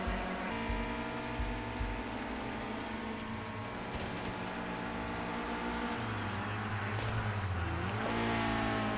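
Race cars in a sim racing esports qualifier, with a continuous droning engine whine that holds steady pitch, then dips and rises again as a car brakes into a corner and accelerates away.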